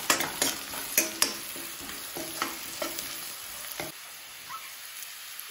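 Carrot leaves being stirred with turmeric in a pan, a soft sizzle under intermittent scraping strokes of a spoon that fade away toward the end, with a faint clink at the close.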